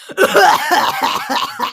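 A voice imitates coughing, a rough burst of forced coughs close to the microphone, loud and brief.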